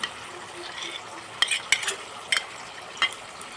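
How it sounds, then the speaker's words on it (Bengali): A yogurt mixture sautéed in a wok for a vegetarian dahi potol dish. A low sizzle runs underneath while a utensil clinks and scrapes against the wok in a few sharp, spaced strokes. No one speaks. "টক দইয়ের মিশ্রণটা এবার কড়ার মধ্যে ঢেলে দিচ্ছি"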